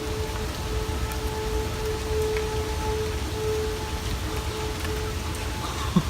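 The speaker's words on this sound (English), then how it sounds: "It's raining like crazy" Heavy storm rain pours steadily outdoors during a tornado warning with hail nearby, a dense unbroken hiss of drops on surfaces with a faint steady tone beneath and a small knock near the end.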